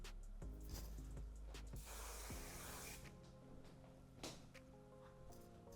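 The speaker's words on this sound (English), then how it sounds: "I'm actually going to take a flexible hold hairspray and spray that, focusing on the mids and the ends." A flexible hold hairspray hisses in a steady burst of about a second onto curly hair, set among soft rustling, clicks and handling noises close to the mic.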